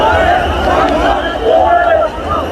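A dense crowd of kanwar pilgrims at Har Ki Pauri, the main Ganga ghat in Haridwar, a close, continuous roar of voices and shouting babble filling the whole moment.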